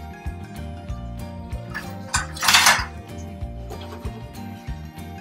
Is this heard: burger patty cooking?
yes